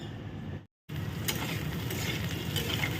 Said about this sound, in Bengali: তাই উচ্ছেটাকে ভেজে নিচ্ছি ভালো করে